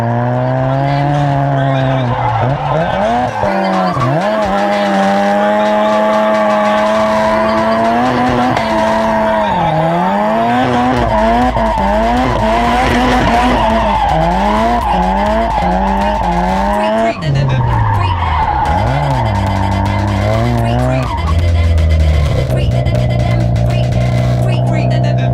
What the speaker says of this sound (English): So let's skid